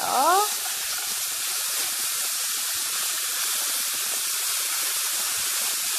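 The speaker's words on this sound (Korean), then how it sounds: "식용유를 둘러진 팬에 좀 전에 머스타드하고 허브 같이 양념을 한 고기를 넣고 노릇노릇하게 구워주세요" Herb and mustard marinated pork hits an oiled pan with a brief burst at the start, then settles into a steady, loud sizzle and hiss that continues evenly to the end.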